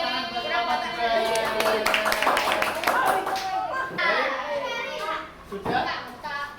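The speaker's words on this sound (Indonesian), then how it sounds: "Beri tepuk tangan buat selamat baik" Schoolchildren in a classroom during a teaching-practice lesson clap together in several bursts, lively and close, mixed with children's chatter and a teacher's voice.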